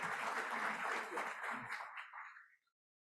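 An audience at a hotel industry panel claps for a speaker, a brief burst of applause with some mingled voices that thins out and stops after about two and a half seconds.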